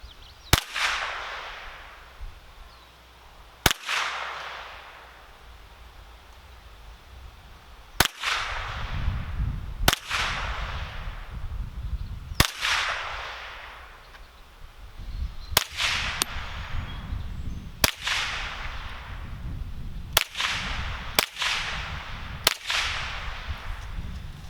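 A Marlin Model 795 .22 rifle fires about ten sharp, loud shots at a bench target 10 yards away, spaced irregularly a few seconds apart, with quiet background noise between them and no talking.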